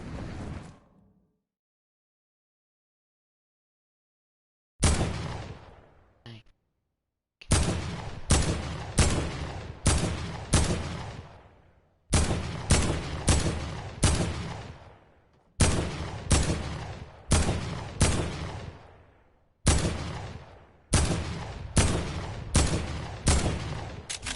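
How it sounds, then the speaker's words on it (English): Heavy assault rifle fire in Fortnite during the season 6 update: one short burst, a pause, then repeated loud bursts of heavy shots in a steady rhythm, each shot booming with a ringing tail, with no talk. "Next will be the heavy assault rifles."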